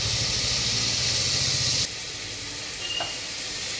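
Kodo millet (varagu rice) roasting in a hot pan gives a steady, bright sizzling hiss that suddenly drops to a quieter crackle halfway through, with a faint clink near the end.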